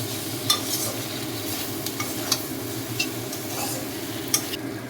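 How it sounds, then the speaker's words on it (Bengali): Onion and ginger paste fries in a pan for a mutton Dak Bungalow curry, stirred steadily: a continuous close sizzle with a few sharp scrapes of the spoon against the metal and no talking. "এবার আদাটা দেওয়া হয়েছে, দিয়ে এবার পুরোটা মিক্স করা হচ্ছে।"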